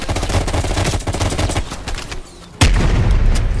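Fully automatic gunfire in the shooter game Call of Duty Black Ops Cold War: loud, rapid bursts of shots close by, a brief lull, then a heavy boom followed by more sustained fire.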